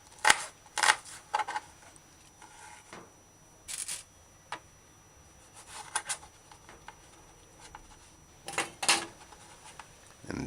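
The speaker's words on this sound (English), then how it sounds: "Dice the onion as well." Knife dicing onion for cabbage stew, scattered sharp chops on a board in short irregular clusters with gaps between, close and moderately loud, without speech.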